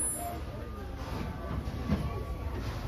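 Walt Disney World Railroad train backing up, a steady low rumble of rolling wheels and rail noise close by, with a faint constant hiss over it.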